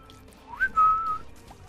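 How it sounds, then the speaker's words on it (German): A short whistle from The Binding of Isaac: Rebirth, a brief rising chirp followed by a sustained steady tone lasting about half a second, moderately loud and heard alone. "Ich bin doch hier, wieso pfeifst du?"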